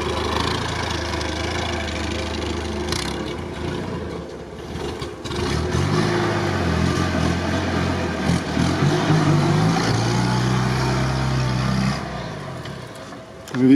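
Engine of a Jeep Willys off-road vehicle labouring steadily as it climbs a slope at an off-road event, a continuous droning roar with rising revs near the end, heard from outside with some voices in the background.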